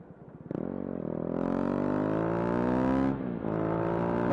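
A motorcycle accelerates on a highway to pass, its engine note climbing steadily in pitch through a gear, dropping briefly at a shift, then rising again, close and loud.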